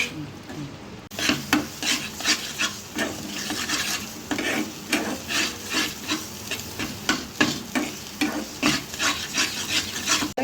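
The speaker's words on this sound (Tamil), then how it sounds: "எண்ணெய் பிரிஞ்சு வர வரைக்கும் இதை கலரணும் குழந்தைகளாம்" Ginger thokku cooks in oil while a spoon stirs it steadily, a close, rhythmic scraping repeated about twice a second over a continuous sizzle, with no voices.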